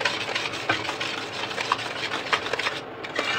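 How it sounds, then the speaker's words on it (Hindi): A spoon works through thick guava barfi mixture in a pan on the stove, giving repeated scraping, rubbing strokes with occasional light clinks against the metal, steady and close throughout. "देख सकते हैं फ्रेंड, 10 मिनट से लगातार चला रही हूँ"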